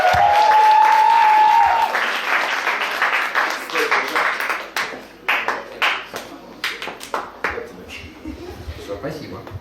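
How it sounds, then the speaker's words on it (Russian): Audience applause at a stage poetry show, a sustained wash of clapping after a brief tone, thinning into scattered individual claps as it fades out. "Я зову на эту сцену Джон Вейн под ваши несмолкающие аплодисменты"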